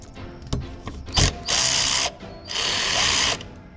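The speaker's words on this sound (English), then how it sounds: "Get my ratchet on here." A ratchet driver loosening bolts on a Polaris snowmobile chain case, with a few sharp clicks and knocks followed by two sustained bursts of whirring, close and fairly loud.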